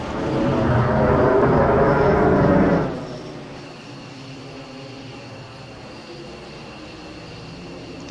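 Jet aircraft passing overhead at an air base in the Falcon BMS flight simulator, a loud broad roar for nearly three seconds that quickly drops away into a steady, quieter engine hum.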